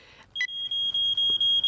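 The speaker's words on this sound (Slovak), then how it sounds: "To je iba obyčajná kontrola, či alarm funguje správne." A smoke alarm being tested gives a loud, shrill, high-pitched electronic beeping. It sounds as a rapid series of close, piercing pulses with almost no gap between them, and no one speaks.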